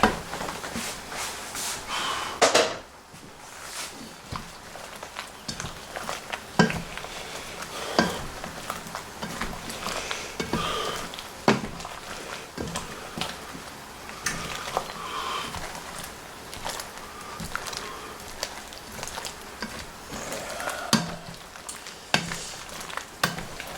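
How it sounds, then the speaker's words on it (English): Apples cooking down in juice in a pot over medium heat give a steady, soft sizzle and bubbling patter, with occasional stirring clinks and scrapes, close and fairly quiet. "I cook this down medium heat right now"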